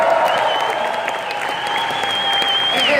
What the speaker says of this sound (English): Give yourselves a hand for that.